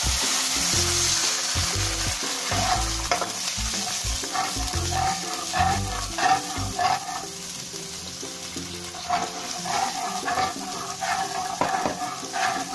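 Water poured into a hot pan of sizzling tomato-sauce mixture for an oyster omelette, a loud continuous frying hiss with stirring clatter, no talking.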